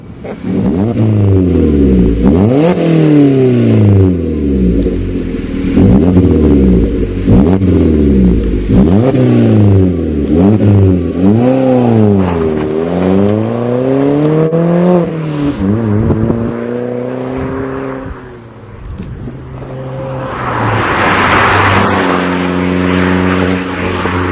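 An MG3 with a custom Powerflow exhaust revs repeatedly, pitch sweeping up and down in sharp bursts with a deep exhaust growl, then drops to a steadier drone.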